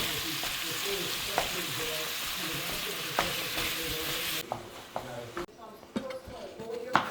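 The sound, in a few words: hamburger meat browning in a frying pan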